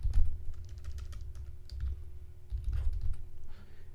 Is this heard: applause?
no